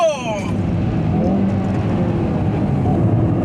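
Hyundai Veloster N with an 8-speed DCT accelerating hard around the Yongin race circuit, its engine roaring loud and continuous, with a rising whine near the start.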